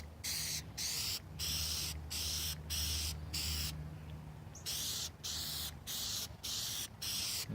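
Aerosol spray can of Plasti Dip rubber coating hissing in repeated bursts of about half a second, a brief pause midway, loud and close, with a faint low hum underneath.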